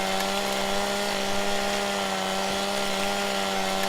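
Chainsaw cutting a tree in the video game Farming Simulator 17, a steady droning whine held at even loudness throughout, with no talk over it.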